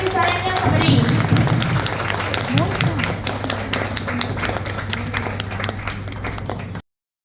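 Audience at a business club installation ceremony in Salem applauding to welcome a new chairman, a burst of clapping from a crowd, fairly close and lively, with a steady hum underneath and some talk over it before it cuts off.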